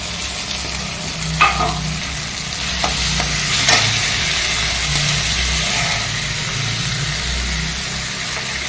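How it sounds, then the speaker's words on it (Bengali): Green chilies and tomato stirred in a frying pan, a steady broadband sizzle with a few sharp scraping stirs, accompanied by a constant low hum underneath throughout. "কাঁচা লঙ্কা টমেটো দিয়ে আমি হালকা করে নাড়বো"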